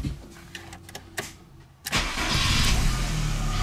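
A VW Golf 2 with engine trouble, including suspected carburetor flange and temperature sensor faults, is started: a few quiet clicks and shuffles, then a brief cranking and the engine catches into a loud steady idle.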